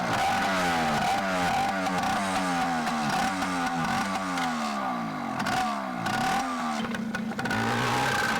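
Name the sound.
motorcycle engine revving while riding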